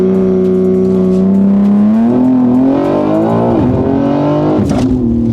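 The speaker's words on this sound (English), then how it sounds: "So we're now going to launch the vehicle from 0 to 60" A tuned BMW M3 Touring launches hard from a standstill to 60, its engine roaring loud and close as the pitch climbs steadily through the run, with a brief dip near the end as it shifts.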